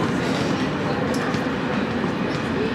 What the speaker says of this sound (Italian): Treno merci. Aspettiamo il treno,